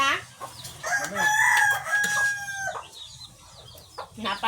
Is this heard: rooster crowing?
yes